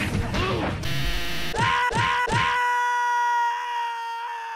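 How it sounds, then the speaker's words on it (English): Monsters in the Roblox game Rainbow Friends let out loud, harsh screams and groans along with crashing hits. The noise ends in a sustained, ringing tonal wail that fades slowly. "they screamed so loud you must be scary"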